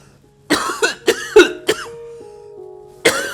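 A person coughs close by in a burst of several rough, chesty coughs with throat clearing, followed by a short pause and one more loud cough.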